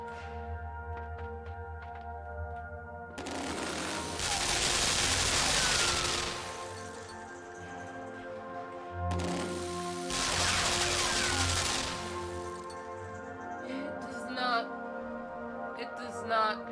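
Gunfire in the video game Limbo: two sustained noisy bursts of rapid automatic fire, each lasting a couple of seconds, over a quiet droning game soundtrack.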